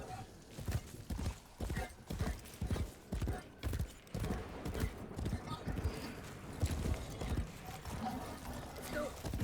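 Galloping horse hooves from a video game, a steady repeated clip-clop rhythm running nearly the whole time, fairly close and mid-level, with a person talking over it.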